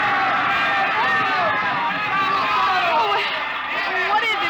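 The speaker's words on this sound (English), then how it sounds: "They're cheering for the bull." A big crowd cheers and yells in a festival plaza as a papier-mâché bull charges through, a steady, dense roar of many voices that stays loud throughout.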